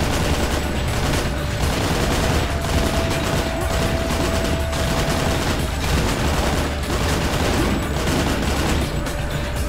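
Rifle fire in the first-person shooter Painkiller, a dense continuous barrage of rapid loud shots with steady repeated bursts throughout, heavy and close with no clear pauses.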